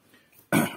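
A single sharp cough bursts out close up after a near-silent pause, loud and abrupt.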